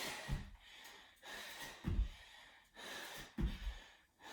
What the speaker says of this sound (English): You can hear how heavy I'm breathing.